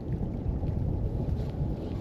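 Strong evening wind buffets the microphone with a continuous low rumble, steady and loud, with no voices, at an icy fishing spot.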